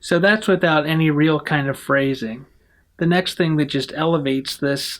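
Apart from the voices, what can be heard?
No everyday noises stand out.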